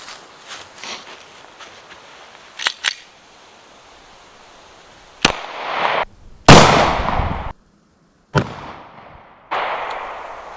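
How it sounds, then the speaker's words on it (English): Several sharp gunshots from a Glock 23 pistol firing 125 grain .40 caliber center fire rounds into homemade ballistic gel, each a loud, close crack with a short ringing tail, spaced irregularly over quiet outdoor background. "now we're going to shoot a 40 Glock 23 and some center fire 125 grain 40 caliber bullets"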